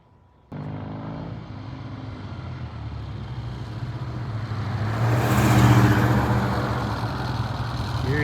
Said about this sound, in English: Here he comes as I about get run over by a freaking truck.